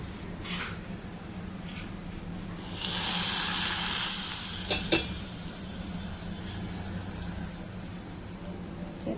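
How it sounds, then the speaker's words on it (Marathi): Cumin seeds and asafoetida tempering in hot oil give a loud burst of sizzling and crackle that rises suddenly, then settles into a steady frying hiss with a few sharp pops, and no voices are heard. "जिरा आणि हिंगचा तडका देतो चांगलं गरम होऊ देतो"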